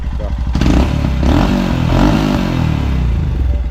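A motorcycle fitted with a Powerage aftermarket exhaust runs close by, its loud, steady engine note rising in a couple of brief revs with some mechanical clatter.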